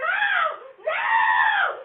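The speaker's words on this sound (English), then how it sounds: "Her screams ring out as the struggle goes on." A woman screams in two long, loud, strained bursts with a short break between them, caught at night on a doorbell camera during a struggle on a neighbor's porch.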